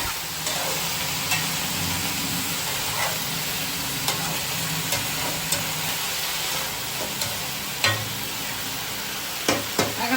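Spinach cooking in a pan with salt, a soft, steady sizzle with occasional sharp spatula taps and clatters, close by and without talk.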